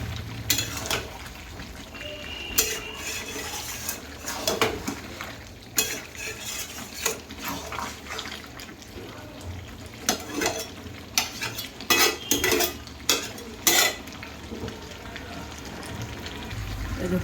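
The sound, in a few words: stir-frying chicken curry with potatoes in a pan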